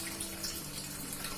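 A running RO water purifier lets water flow in a faint, steady trickling hiss, quiet and continuous with a low hum underneath.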